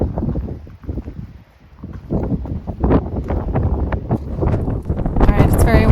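Strong gusts of wind buffet the microphone on a mountain trail along the Tahoe Rim, a rough, uneven roar that swells and drops in bursts and grows loudest at the end.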